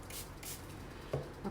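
A spray bottle squirts water onto a rag in two quick, soft bursts close to the mic, followed by faint handling knocks.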